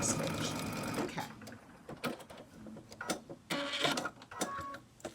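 A sewing machine backstitches a clutch wallet in short bursts of rapid mechanical stitching, stopping and starting at close range while someone talks over it.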